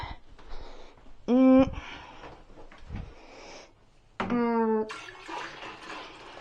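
Water running and splashing while rinsing after sudsy wash water has been scooped out, with two loud, squeaky tonal bursts over the steady flow.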